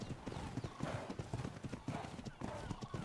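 Zebra hooves clip-clopping in the ARK Survival Evolved video game, a quick steady trotting rhythm running throughout, heard under voices chatting.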